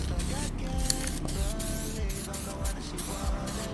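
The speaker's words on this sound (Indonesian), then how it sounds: "Semprot 2 lapis saja cukup karena Ditone dashboard coating ini daya tutupnya baik banget" Ditone dashboard coating sprayed from an aerosol can in a series of short hissing bursts with brief gaps between them, close and fairly loud, while a person talks over the spraying.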